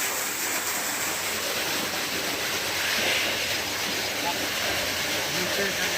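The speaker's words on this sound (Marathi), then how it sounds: "आणि हे बोरचं पाणी" Water from a borewell pipe on a farm beside a well gushes in a steady, loud, broadband rush with no pauses, close by and unbroken throughout.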